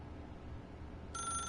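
A telephone in The Stanley Parable: Ultra Deluxe starts ringing with a bright electronic bell tone over a low steady background hum, clear and alone.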